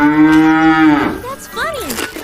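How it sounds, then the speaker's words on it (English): A gentle cow grazing on grass gives one long, loud, harmonic moo lasting about a second, followed by a shorter rising and falling call, heard alone and close. "Here's a gentle cow chewing some yummy grass. The cow says..."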